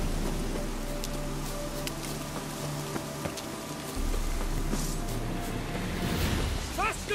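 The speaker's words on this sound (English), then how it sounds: "Looks like rain." Steady rain falls across an outdoor scene in the fantasy role-playing game The Witcher 3: Hearts of Stone, a continuous wash of patter beneath a low drone and soft tonal ambience.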